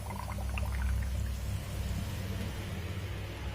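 Air bubbles escape from a leaking aeration hose in a koi pond, a faint gurgling and splashing close at hand, bubbly at first and then fading into a soft watery wash.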